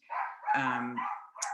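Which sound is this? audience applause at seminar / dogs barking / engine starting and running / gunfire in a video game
dogs barking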